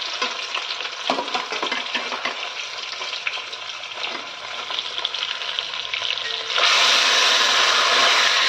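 Fish fries in a kadai with a steady loud sizzle and crackle, swelling suddenly to a harsher, brighter hiss near the end as the oil spits harder.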